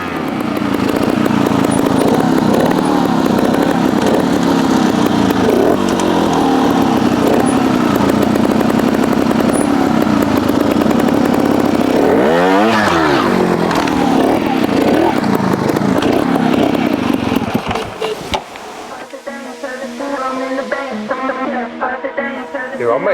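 A Beta Evo 250 trials motorcycle engine runs loud and close, revving and blipping steadily, with one sharp rev surge midway, then dropping to a quieter idle near the end.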